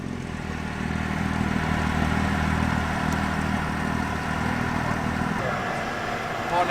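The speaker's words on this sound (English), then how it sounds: "Lovely 6-cylinder Burble." Six-cylinder classic Ford car engine burbling at idle at an outdoor Ford rally at Gaydon, a steady low rumble heard from close by throughout, with faint background noise.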